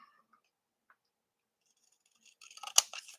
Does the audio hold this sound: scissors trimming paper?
yes